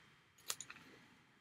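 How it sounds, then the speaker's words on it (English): Scissors snip around a paper sun in fussy-cutting style, a few quick close crisp snips clustered together against a quiet room. "go ahead and fussy cut this sun out"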